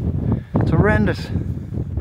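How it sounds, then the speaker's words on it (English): Strong, gusty wind buffeting a microphone on open Scottish hills during a wild camp, rushing and roaring under close speech from a person. "It's alright when they're not gusting, but just can't get out of the wind."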